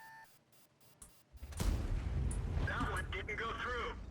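Enemy tank cannon rounds slam into a tank in a tank battle video game, a heavy boom followed by rumbling impact noise and metallic ringing, with game sounds in the background.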